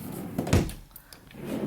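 A home drawer slides open with a short wooden thump and scrape near the middle, up close and fairly quiet.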